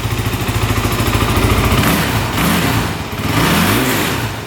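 A used quad ATV engine revving freely in neutral, first a rapid pulsing idle, then climbing into loud, full revs with two rising and falling swells, close to the microphone, with no bogging and no talk.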